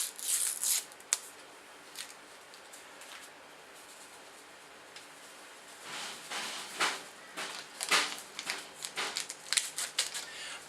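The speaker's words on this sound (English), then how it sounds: "let's cut the yeast open." A yeast packet is cut open with scissors in a home-brewing setup, faint crinkling of the foil packet followed by several quick, sharp snips and rustles, close and quiet.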